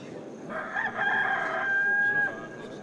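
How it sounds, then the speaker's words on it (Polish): A rooster crows loudly once in a long drawn-out cock-a-doodle-doo, close and clear over quiet background, as part of a dramatized Easter story. "W tym momencie słychać głośne pianie koguta."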